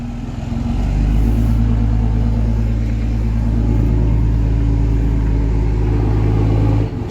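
A truck engine rumbles loud and close as it pulls out of a shop, the revs rising after a second into a sustained low, steady drone that holds before easing off at the end.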